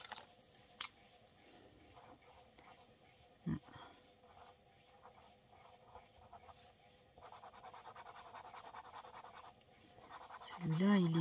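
Pens drawn across paper while testing them for scrapbooking give soft, scratchy strokes with a couple of sharp ticks early on, then a denser stretch of scratching and a louder rustle at the end.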